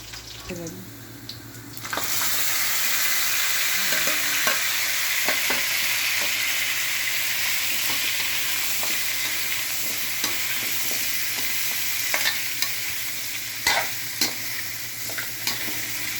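Pre-boiled pork ribs sauté in a pan for caldereta, a soft start giving way after a couple of seconds to a loud, steady sizzle with scattered clinks and scrapes of stirring.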